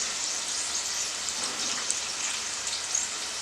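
Onions and curry leaves sauté in a hot pan, giving a steady, close, crackling sizzle with occasional pops and no voices.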